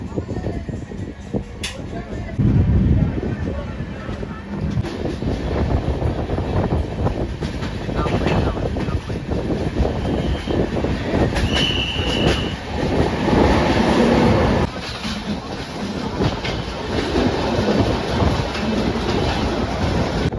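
A train on the Vizag to Araku line rumbles steadily along the rails with a continuous rolling roar and occasional clanks and squeals, while people talk faintly in the background.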